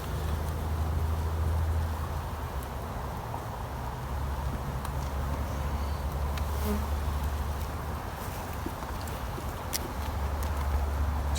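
Honey bees buzz at a hive in a steady, dense drone that stays close and even throughout, with no voices.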